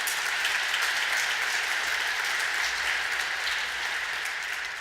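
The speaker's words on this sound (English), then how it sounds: "Let's give them a round of applause." An audience in a historic church applauds on the anniversary of Rev. Dr. King's assassination. The clapping is loud, dense and sustained and carries on for several seconds.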